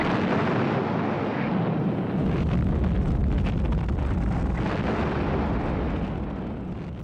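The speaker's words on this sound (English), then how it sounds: "After a heavy naval bombardment," A heavy naval bombardment from 1945 at Iwo Jima shows up as continuous roaring rumbling blasts that overlap into a dense, loud wall of noise with a low booming base, slightly tapering toward the end.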